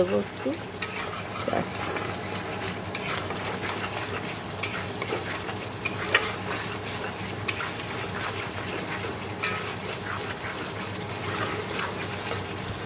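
Chickpeas with chana masala fry in a pan under steady sizzling while a spoon stirs them, making regular scraping strokes and occasional clicks over the constant hiss.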